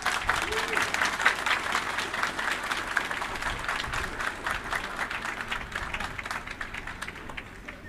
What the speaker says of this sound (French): Elle a accueilli et recueilli vraiment de très chauds applaudissements.